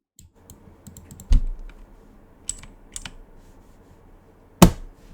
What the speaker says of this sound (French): Vous entendrez vite fait le clavier. Non, vous l'entendez bien en fait.